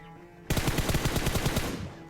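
Rapid automatic M4 rifle fire in a mobile battle royale shooter game, a dense burst of about a dozen evenly spaced close shots lasting just over a second, then fading.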